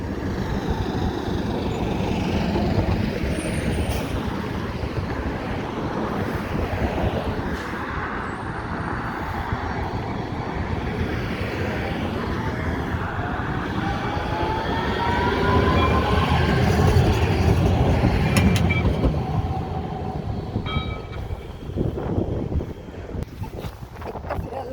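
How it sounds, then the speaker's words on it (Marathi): A light rail train rumbles in on a neighbouring line at a stop, a steady loud rolling roar with wheel noise and wind buffeting the microphone, swelling slightly as it passes, no talking. "दुसरी ट्रेन येत आहे जी दुसऱ्या लाईनला जाते आहे."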